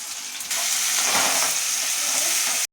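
Ginger garlic paste and tomato sautéing in a pan, a loud hissing sizzle that surges up after a quieter opening and holds steady until it cuts off abruptly, close and without voices.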